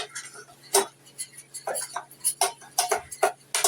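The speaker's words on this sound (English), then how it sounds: "I'm just stirring that into those hot grits, melting that Parmesan cheese" A spoon works through hot grits with melting Parmesan cheese, giving a series of sharp clinks and taps against the pot at an irregular, steady pace, clear and close.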